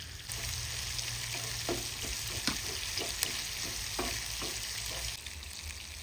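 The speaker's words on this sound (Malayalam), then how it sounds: "സവോളയുണ്ട് കുറച്ച് പച്ചമുളക് കൊണ്ട് അതെല്ലാം നമുക്കൊന്ന് വഴറ്റി എടുക്കണം" Sliced onion and green chili sautéing in a pan, giving a steady, fairly faint frying hiss throughout with a few soft stirring scrapes scattered across it.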